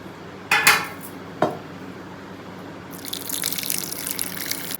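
Water is poured into a mixer grinder jar while preparing batter for Aati special patrode: two sharp metallic clinks come first, then a steady splashing pour fills the last two seconds, with no talking.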